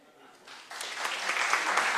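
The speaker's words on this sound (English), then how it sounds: "When I raise this hand, you have to start clapping." An audience at a homeopathy book launch bursts into clapping, starting light and swelling into dense, sustained applause that fills the room; a voice can be heard faintly amid the clapping.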